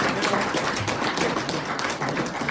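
A round of applause for Liberal staffers fills the room as a dense, steady wash of many hands clapping at a political event, continuous and fairly loud throughout.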